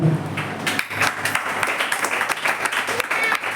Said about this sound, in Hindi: आपका खुद के लिए जोरदार ताली बजाओ।